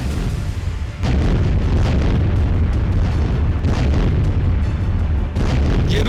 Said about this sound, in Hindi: यह रूस का 152 mm होवित्जर है।